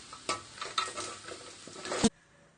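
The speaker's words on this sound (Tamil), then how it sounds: "இந்த மாதிரி கட் பண்ணி நல்லா பொரிச்சு எடுத்துருங்க. பொன்னிறத்தில் பொரிச்சு எடுத்துருங்க." Paneer cubes frying in hot oil, giving a soft continuous sizzle with a few stirring scrapes and clinks, ending abruptly with a sharp clack before quiet.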